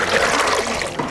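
Water is poured over shea nuts being washed, a short close splash and trickle in a quick outdoor moment.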